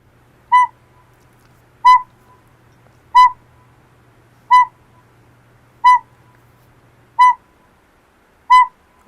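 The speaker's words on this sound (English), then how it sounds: "So let me just play one of their hoots." An owl hoots seven times in an even, spaced series, each call a short clear tone of similar loudness, with a faint low hum beneath and quiet gaps between.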